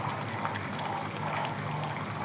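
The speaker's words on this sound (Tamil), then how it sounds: "நல்லா கருவாடு கொதிச்சிட்ருக்கு" Dry fish curry bubbles in a pot, a steady soft simmering and trickling liquid sound, close and alone without talk.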